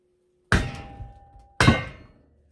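A hammer strikes a firewood splitter twice, each blow a loud, close metallic clang that rings out and decays in the quiet between hits.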